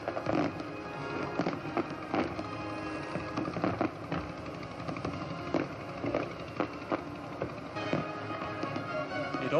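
Fireworks burst over a harbour during a 1986 Royal Australian Navy fleet review, a dense, continuous barrage of thuds and crackling pops at a distance, loud and layered with no pauses.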